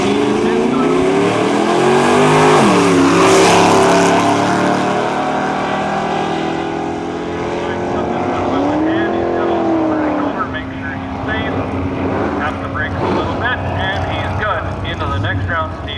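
A 1963 Ford Falcon drag car at a nostalgia drag racing meet in Cayuga, Ontario, roars loudly, its engine pitch climbing through revs and gear changes, under an announcer's voice.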